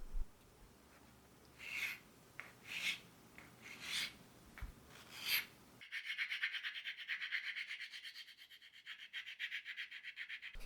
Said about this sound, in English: I cut the shape slightly outside the lines, so I can clean it up more precisely with a rasp.